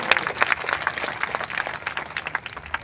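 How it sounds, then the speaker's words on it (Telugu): A church congregation at a Christmas service in Khammam claps together, a dense, fairly loud patter of hands that holds for a few seconds before thinning slightly. "నమ్మిన వాళ్ళు గట్టిగా చప్పట్లు మహింపరుస్తారా?"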